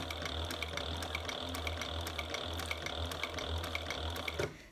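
An industrial sewing machine with a servo motor and needle synchronizer runs in a steady, rapid mechanical rhythm of needle strokes and whirring, close and continuous, then stops abruptly near the end.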